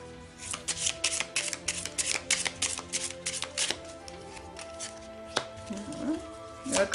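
Tarot cards being laid out on a table, a quick series of crisp slaps and flicks in an uneven rhythm, thinning out and turning into softer shuffling toward the end.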